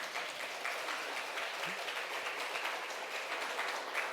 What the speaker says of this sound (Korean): 박수 한번 쳐줍시다.